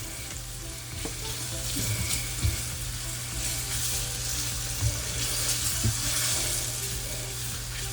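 Steak pie filling thickened with a roux browns in a pan, giving a steady broadband sizzle with a low hum beneath and a few soft clinks of stirring, close and continuous throughout.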